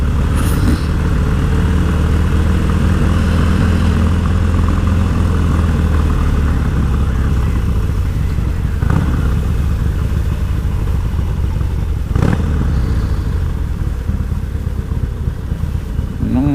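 Motorcycle engines rumble and idle continuously nearby at a motorcycle event, a loud steady drone with occasional revs and faint voices in the background.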